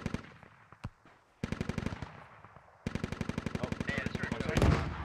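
Rapid automatic cannon fire from a BMP armored vehicle in the military shooter game Squad, sounding in long rhythmic bursts with brief pauses, loud and close, the final burst rising into a heavier rumble.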